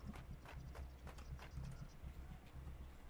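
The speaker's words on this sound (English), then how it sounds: "I hope that's your footsteps I hear up there." Footsteps overhead in the game Night of the Dead, a fast run of hard, clopping thuds repeating steadily throughout, fairly loud and close with no talk over them.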